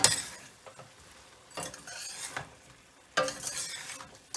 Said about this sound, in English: And stir.